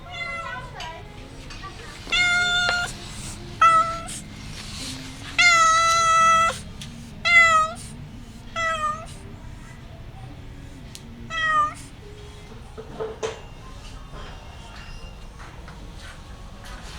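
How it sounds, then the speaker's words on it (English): A cat on a busy street near Pub Street in Siem Reap, Cambodia, gives a series of loud, drawn-out meows spread across the stretch, over a low bed of street noise. "Oh, here's another cat."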